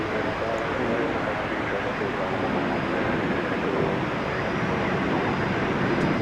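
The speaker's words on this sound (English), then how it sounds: "an Airbus A320 is next out of the chute" An Airbus A320, a 1999-built airframe, departs DFW Airport at night with a steady, broad engine roar that holds loud and even throughout.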